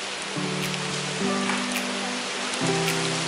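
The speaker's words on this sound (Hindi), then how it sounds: "बारिश हो गई," Rain falls steadily at a fort in Goa, a dense even patter on surfaces with a low hum of tonal background sound underneath.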